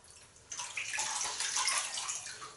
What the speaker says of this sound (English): Gonna let that warm up in the water a little, just while I wash my hands off.